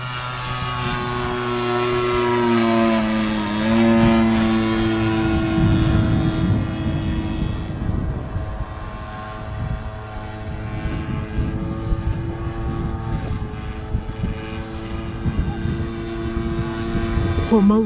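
A President T-240 model aircraft powered by an MBVS 26 petrol engine drones steadily throughout, a continuous engine buzz with shifting pitch as it flies, while people talk nearby over it.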